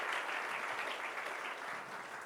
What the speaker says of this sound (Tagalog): Palakpakan po natin ang Panginoon. Sige, yung the best na palakpak sa Panginoon.